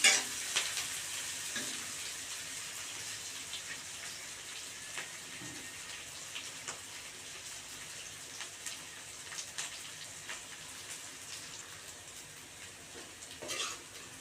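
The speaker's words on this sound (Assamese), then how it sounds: "পিঁয়াজখিনি ৰঙচুৱা হোৱালৈকে ভালদৰে ভাজি থাকিব লাগিব।" Onions frying in hot oil in a pan for a home-style chicken curry, giving a soft, continuous sizzle with occasional scraping stirs and faint clinks, fairly quiet and without voices.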